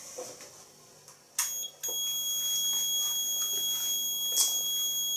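A Nugelec elevator technical alarm panel with a zone in fault emits a steady high-pitched electronic beep tone, with a few clicks and knocks before it starts.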